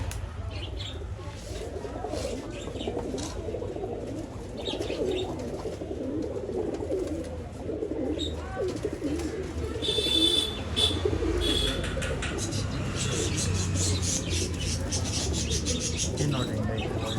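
Pigeons of an old line breed, kept for sale in Bangalore, coo in low rolling bursts throughout, with chirps and shuffling over a steady background and people talking nearby.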